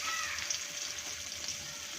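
Turmeric and split green chillies sizzle in hot oil, a soft, steady hiss of frying that runs evenly throughout, heard close but faint, with no talking over it.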